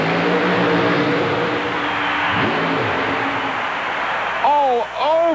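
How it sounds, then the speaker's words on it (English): The engine of Mud Patrol, a 1932 Chevrolet mud racing car, roars loudly on a mud track, revving and shifting in pitch, with a commentator talking over it at the end. "This is the 1932 Chevrolet called Mud Patrol."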